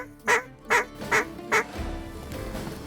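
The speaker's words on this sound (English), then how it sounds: "Big ducks." Ducks honk and quack loudly four times in an even rhythm during a wetland duck hunt in Washington, followed by a quieter stretch of outdoor ambience.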